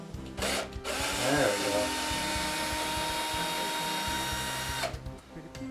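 A power drill whines steadily for several seconds while removing screws from an old window during a home window install, then stops, with a brief spoken remark near the end.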